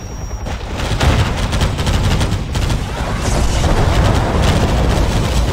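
An airstrike in a video game, with loud, dense explosions and rapid gunfire rumbling together continuously and close.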